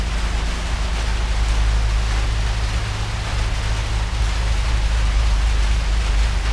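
Heavy rain pours down in a dense, constant hiss with a deep rumbling undertone, unbroken and steady with no voices.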